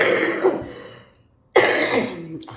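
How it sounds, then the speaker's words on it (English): Two harsh coughing bursts, close and loud, separated by a brief silence, with no talking. "We've all got the cough."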